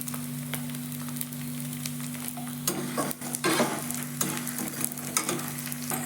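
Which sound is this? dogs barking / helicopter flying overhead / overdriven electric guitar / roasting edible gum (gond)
roasting edible gum (gond)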